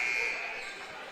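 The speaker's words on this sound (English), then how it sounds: "Pull up, buzzer beater, no good on the attempt from Cam Skedrick." End-of-quarter buzzer in a high school boys basketball gym, a steady electronic tone over crowd noise that holds for under a second and then cuts off as the crowd murmur continues.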